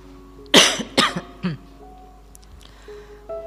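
A man coughs three times in quick succession, close and fairly loud, the bursts tapering off, followed by quiet room tone.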